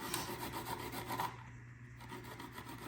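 A single garlic clove is grated for a gravlax sauce, giving a faint, quick, rhythmic rasping scrape close by, repeating in short strokes with a brief pause midway.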